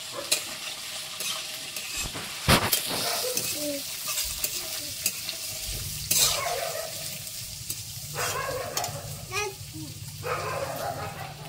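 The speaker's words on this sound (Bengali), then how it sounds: "বাদাম দিয়ে দিচ্ছি। আলু দিয়ে দিচ্ছি। ছোট ছোট করে কুচি করে নিয়েছি আলু।" Peanuts and small chopped potatoes frying in a pan while being stirred, a continuous sizzle broken by frequent clattering scrapes of the spoon, with a dog barking and some voices in the background.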